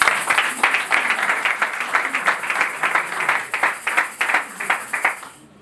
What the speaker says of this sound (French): notre ami Basile Sombo Dibélé, sous vos applaudissements.